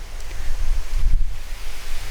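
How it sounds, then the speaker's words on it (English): Strong wind roars and buffets the microphone with a steady broadband rush and low gusty thumps, with no voices. "It's so windy."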